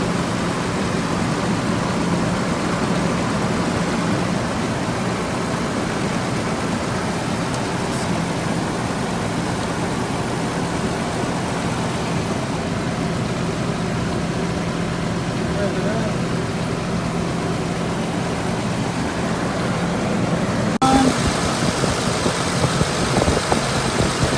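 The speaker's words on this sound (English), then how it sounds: "Just to show you guys with the engine on." A 1991–92 Toyota Land Cruiser FJ80 engine idles steadily with a low, even hum and slight vibration, running close by for over twenty seconds, with someone talking over it at times.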